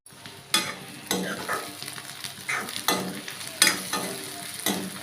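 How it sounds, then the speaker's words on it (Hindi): Whole red chilies, garlic and onion frying as a tempering for a Chhattisgarhi dish, with bursts of sizzle each time the pan is stirred, several scrapes spaced across the stretch at close range, no voices. "और खड़ा मिर्ची लहसुन और प्याज के फोरन डाले हम संगवारी हो।"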